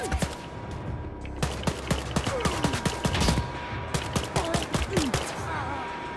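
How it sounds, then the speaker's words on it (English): Rapid bursts of gunfire from shooting Nazis in Wolfenstein: Youngblood, dense overlapping shots and impacts crackling loud and close for several seconds, with a few brief pauses between volleys. "I don't know why, but I like shooting Nazis in the nuts."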